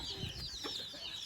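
Chickens cluck softly a few times at middle distance, with a faint chirpy trill running through the quiet background of a farm setting.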